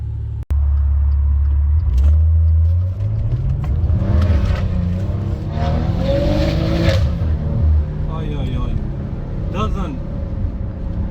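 A Maserati Ghibli S 3.0 petrol engine with resonator delete roars loudly and revs up, its deep exhaust note rising and falling, with people talking over it.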